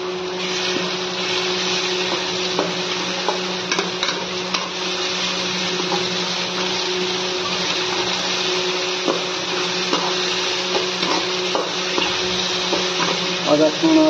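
A mixer grinder blends ginger garlic paste for an Odia chickpea tadka, a steady, loud, continuous motor whir with chopping rattle that runs unbroken for the whole stretch.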